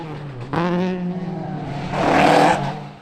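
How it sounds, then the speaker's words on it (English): A rally car with a new engine revs hard on a winter-series stage at Shackleton, its engine note rising sharply, holding a strong tone, then surging again into a loud, rough burst near the end. "Class 9 Eugene Clark has this new engine absolutely singing"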